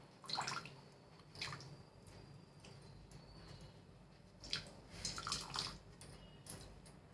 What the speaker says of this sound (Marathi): पाणी नितरून घ्यायचं सगळं असं।